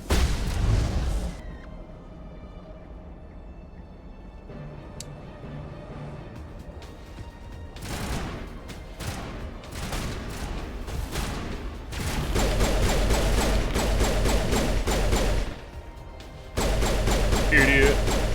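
Rapid gunfire in a Mass Effect firefight, with dense bursts of shots, crackling volleys and heavy blasts coming in clusters over the whole stretch, loud and close.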